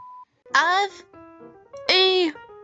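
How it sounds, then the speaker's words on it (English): A brief, pure electronic censor beep sounds at the very start, followed by people talking in short, animated bursts. "I'll edit in the beep for you."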